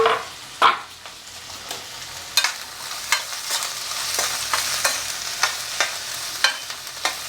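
Onion, curry leaves and green chillies frying in oil in a pan, a soft steady sizzle broken by a series of sharp scraping and clinking strokes as the mixture is stirred, close and loud.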